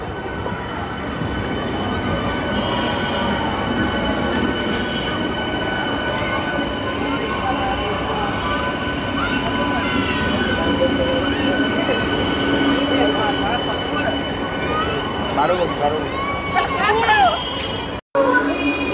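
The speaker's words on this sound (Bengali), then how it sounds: "এই হচ্ছে আমাদের লোকাল ট্রেন যেটি আমঘাট স্টেশন থেকে কিছুক্ষণ পরে আবার ছেড়ে যাবে" A new-coach Indian Railways local passenger train standing at Amghata station, with a steady rumble of idling rail carriages and station ambience throughout, a few brief squeals near the end, and people talking in the background.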